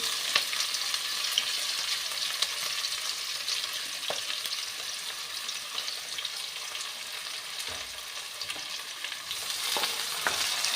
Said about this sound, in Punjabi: ਨਾਲ ਹੀ ਜੇ ਆਪਾਂ ਇਹਦੇ ਐਡ ਕਰ ਦਾਂਗੇ ਲੰਬੇ ਲੰਬੇ ਕੱਟੇ ਹੋਏ ਪਿਆਜ਼